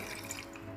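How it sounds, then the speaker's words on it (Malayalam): Water poured into a mixer grinder jar of coconut, garlic, cashew, turmeric and fennel for kurma gravy, a brief close trickle of running liquid with no talk. "ആവശ്യത്തിന് വെള്ളം ഒഴിക്കാം."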